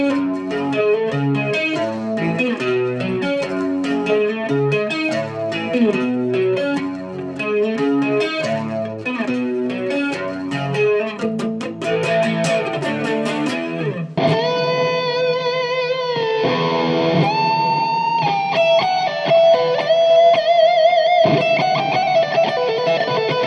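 An electric guitar plays through a Fender Tone Master Pro on one of its factory presets. Rapid, bright, chorus-laden picked arpeggios with echo ring out alone, then move into sustained, shimmering chords and held notes.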